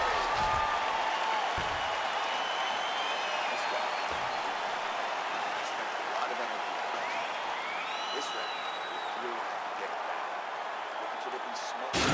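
Crowd applause and cheering in the EA Sports UFC 4 fighting game, a steady wash of clapping and crowd noise, moderately quiet, with brief whistle-like tones and a voice rising over it at times.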